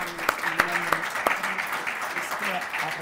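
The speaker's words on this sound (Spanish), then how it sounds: "igual le damos un aplausito para que se caliente" Applause from a poetry-reading audience, a steady broadband patter of many hands with a few sharper individual claps standing out, fairly close and moderately loud, with faint voices murmuring underneath.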